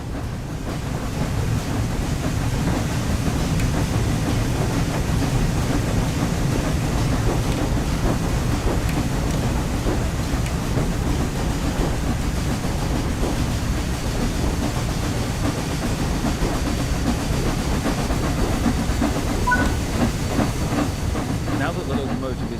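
Flying Scotsman steam locomotive under way in Train Sim World 4, a loud, dense rushing roar of steam and rolling wheels that holds steady throughout.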